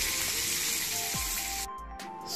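Pomfret fish frying on a flat tava, a loud close sizzle that suddenly drops to a quieter hiss near the end, with no voices.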